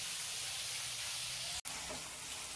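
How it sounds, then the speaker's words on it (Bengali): Red amaranth greens frying in a pan give a steady, close sizzling hiss that runs through the clip, with one brief break near the middle. "এই যে শাক ভাজা বসিয়ে দিয়েছি, লাল ডাঁটার শাক ভাজা।"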